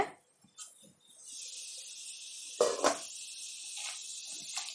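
A metal cooking pot lid lifts with a single sharp clink over a steady background hiss, while suvarotti varuval, a spiced Tamil fry, simmers inside; a few faint taps and scrapes follow.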